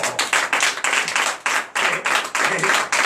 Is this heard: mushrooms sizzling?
no